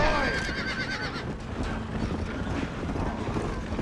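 A horse in the video game Red Dead Redemption whinnies at the start, its call rising and falling over a busy, noisy background with a steady wash of sound.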